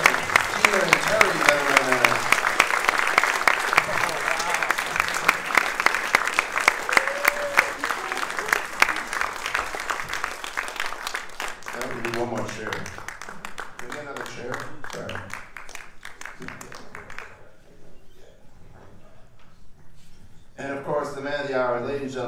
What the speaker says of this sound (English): Big round of applause, Director Joe Zito.